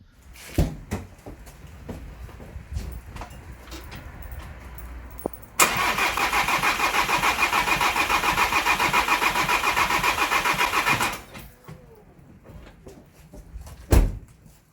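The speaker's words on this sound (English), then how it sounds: "it's just a case of cranking it" A Volkswagen Crafter diesel van engine cranking over on the starter after a broken timing belt repair, a loud, steady rhythmic churning lasting several seconds that cuts off abruptly, framed by quieter clicks and knocks before and after.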